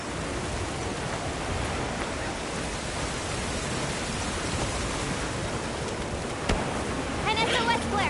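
A heavy downpour in Monster Hunter World makes a dense, steady roar of rain throughout, with faint game sounds and voices in the background.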